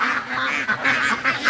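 A crowd of free-range ducks rushes out of their pen in the morning, quacking excitedly in a dense, continuous, loud chorus of overlapping honking calls close by.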